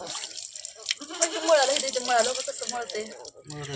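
Water splashes and pours in bursts while a person talks over it and an animal bleats now and then.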